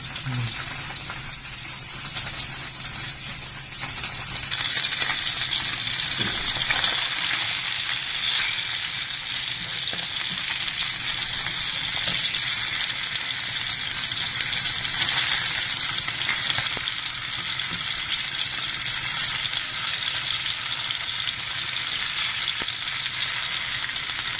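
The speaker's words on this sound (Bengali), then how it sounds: "এবারে মাছগুলো আমি একে একে তেলের মধ্যে ছেড়ে দেবো" Steady, vigorous oil frying of bhetki fish fills the whole stretch, a dense crackling sizzle that stays loud and close throughout.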